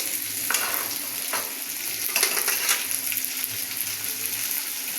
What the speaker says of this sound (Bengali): দিয়ে দিলাম আদা রসুন বাটা ছোটো টেবিল চামচে দুই চামচ